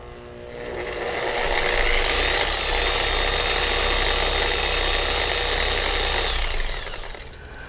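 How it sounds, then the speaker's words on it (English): A dual action car polisher switched on and running, a steady loud motor whine with a constant tone that holds for about five seconds before spinning down. "excuse me while I plug in this polisher. Let's turn it on."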